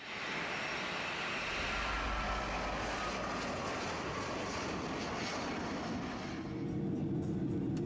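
Passenger airliner in flight over Ukrainian airspace, a Malaysia Airlines MH17 flight; a steady, broad engine roar and rushing hum holds throughout, shifting slightly in tone near the end.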